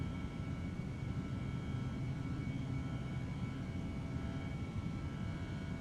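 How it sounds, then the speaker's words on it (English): A jet airliner climbs out after takeoff with its landing gear retracting, a steady loud broadband engine roar heard from inside, continuous and without talk. "Positive rate of climb. Gears coming up."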